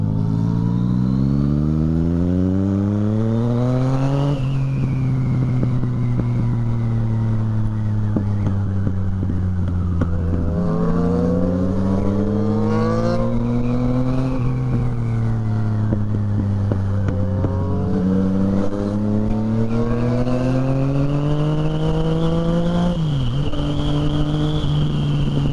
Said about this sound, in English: My bike sounds so good.